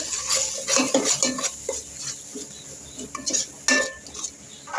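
A spoon stirring a spiced rice dish with garam masala in a metal pot, repeated close scraping and clinking strokes in an uneven rhythm, fairly loud and without talk.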